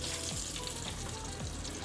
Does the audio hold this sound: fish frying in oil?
yes